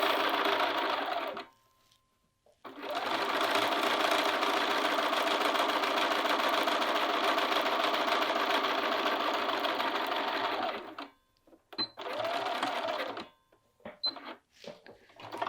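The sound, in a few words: sewing machine edge stitching a sleeve cuff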